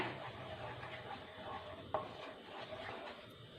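Tomato mixture being stirred in a cooking pan, with soft scraping and a faint sizzle and one sharp utensil knock against the pan, all fairly quiet.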